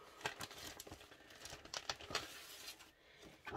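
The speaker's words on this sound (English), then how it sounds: "excuse the crinkling" Cross-stitch pattern packaging crinkled by hand up close, a rapid string of soft crackles and rustles, faint and uneven, with no voices.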